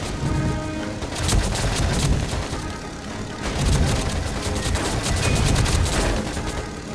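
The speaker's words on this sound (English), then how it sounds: "Somebody is still bombing me." Bombs explode over and over in the Air Conflicts flight game, rolling booms and crashing blasts that swell and fade in waves, loud and continuous, with scattered gunfire crackle between them.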